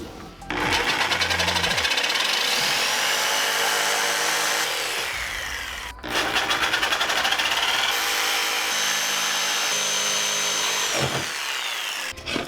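A power tool cuts a 1/4-inch piece from a part for a homemade nail launcher, running in two long steady bursts of close, loud whirring separated by a brief stop.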